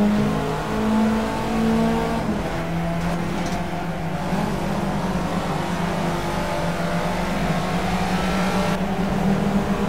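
A Caterham race car's engine in the racing game Project Cars revs and accelerates steadily, a loud continuous buzzing drone with rising pitch throughout, close and without gaps.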